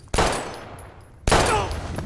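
Two loud gunshots in Life Is Strange, about a second apart, each a sharp close crack followed by a decaying echo.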